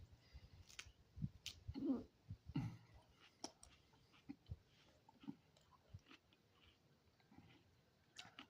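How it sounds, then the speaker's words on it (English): Someone chews a hot Warthog pepper, with soft, close crunching and wet mouth sounds in an irregular rhythm, fairly quiet and without talking. "Just chewing it now."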